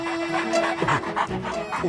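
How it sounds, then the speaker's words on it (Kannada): A cartoon dog pants in quick, breathy huffs, near and steady over about two seconds, mixed with a tonal background hum and a faint voice. "ಪಾಪ ಇದು ಯಾವುದೋ ದೊಡ್ಡ ಮನುಷ್ಯ ಮನೆ ನಾಯಿ ಅನ್ಸುತ್ತೆ ಕಣೋ"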